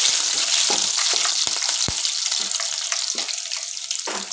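Curry leaves and green chilies frying in hot oil, a loud continuous hissing sizzle close up, broken by a few sharp pops and spatula knocks against the pan.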